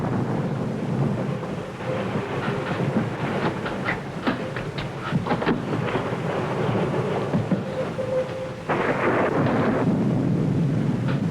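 Rain and a thunderstorm: a steady, dense hiss of rainfall with low rolling rumble underneath, holding loud and constant throughout with no voices.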